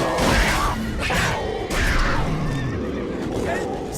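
A horse neighs in The Witcher 3: Blood and Wine, a loud whinny mixed with game action noise while a voice talks over it.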